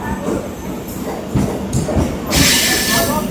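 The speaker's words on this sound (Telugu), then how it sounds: "ఇదిగోండి ట్రైన్ వచ్చింది" A passenger train pulls into Vijayawada station with rumbling, clattering rail noise that grows louder and brighter toward the end, while people talk nearby on the platform.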